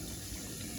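A pond filter flushing, with water pouring out in a steady, fairly faint gushing wash that runs unbroken throughout.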